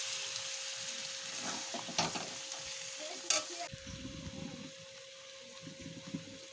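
Meat rubbed with salt and turmeric sizzles quietly in a pan while being stirred and sautéed. Soft scrapes and a couple of sharper clinks break through the steady frying hiss.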